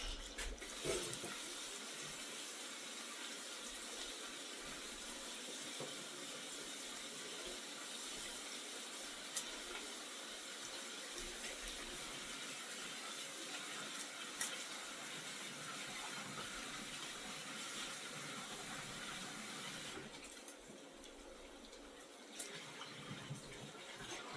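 Kitchen tap water runs steadily into a sink in a busy home kitchen, a continuous close hiss and splash holding for over twenty seconds with a brief dip near the end.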